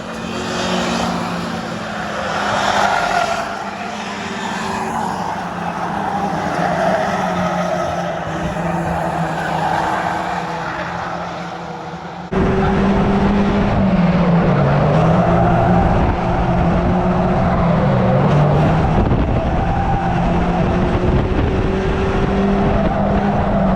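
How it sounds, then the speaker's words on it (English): Stock cars race closely in a pack around the oval at Cowdenbeath Racewall, engines roaring continuously and loudly, with tire squeal as they corner; the engine noise swells sharply about halfway through as the pack passes near. "once again it's some close racing with the pack ahead going for the lead"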